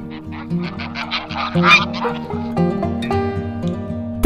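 A duck quacks in a rapid burst of nasal calls, loud and near, set against steady background music.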